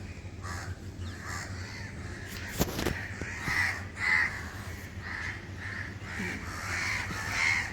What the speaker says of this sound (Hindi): कौवे सच्ची में इसलिए चिल्ला रहे थे,